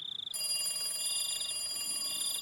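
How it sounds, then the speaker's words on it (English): A telephone rings in a quiet night scene of the anime Higurashi, a steady electronic trilling tone repeating in bursts over a faint background hum, fairly soft and alone with no talk. "After a while, I finally realized the phone was ringing"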